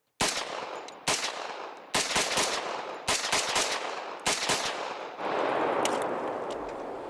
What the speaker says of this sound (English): this thing was surprisingly pleasant to shoot out of this little pistol here.